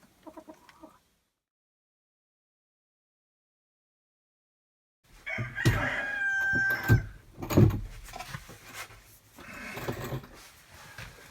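Chickens and a rooster cluck and crow in a backyard coop, a brief burst at the start, then several seconds of silence before a busy stretch of clucking and crowing with sharp peaks, fairly close.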